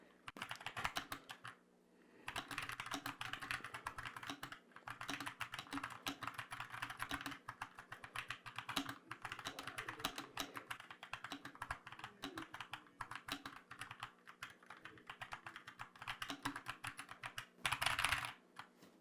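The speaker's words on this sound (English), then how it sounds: "So I'm just going to be typing some sentences, and then I'll also be kind of spamming some keys and things like that." Steady computer keyboard typing, with bursts of rapid key spamming, fills the clip up close and alone, broken by a couple of short pauses and ending in a denser flurry of keystrokes.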